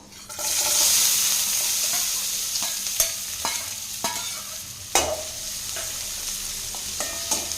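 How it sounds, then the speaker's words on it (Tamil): Chopped onion fries in a pan with oyster mushroom and stone flower as a spoon stirs it: a loud, close, hissing sizzle that swells early, then eases under irregular sharp scrapes and knocks against the pan, with no voices. "சேர்த்திட்டு நல்லா கலந்து விட்டுறலாங்க"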